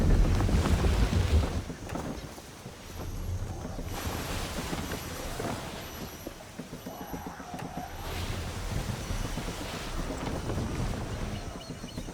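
A sailing ship at sea in Assassin's Creed III, with wind rushing over the deck, waves washing against the hull and creaking timbers in a steady, breezy ambience.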